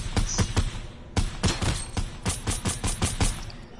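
Rapid bursts of gunfire from the video game Fortnite, sharp repeated shots in quick clusters with a brief pause, loud and close, with no talking.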